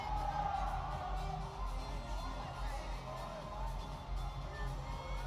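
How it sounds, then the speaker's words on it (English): Men's NCAA gymnastics team cheering on a teammate during a routine at a William & Mary vs Navy meet, scattered shouts and whoops from the bench over a murmuring arena crowd, steady and mid-distance. "you see the team cheering him on behind him"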